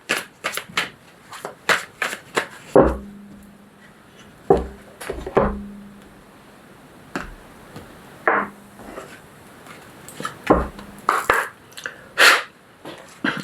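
Petit Lenormand oracle cards are shuffled and handled by hand, giving repeated crisp riffling and slapping bursts with pauses between them, close and fairly loud, with little talk.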